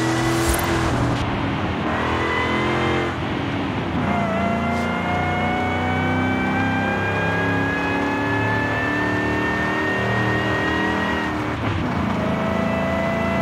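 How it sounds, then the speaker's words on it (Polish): A car engine in the video game Forza Horizon 5 drones steadily with a rising high-pitched supercharger whine layered over it, loud and continuous throughout. "Nawet z tyłu słychać ten kompresor, to się zresztą rzadko zdarza."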